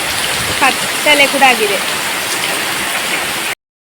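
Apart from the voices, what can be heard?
heavy rain falling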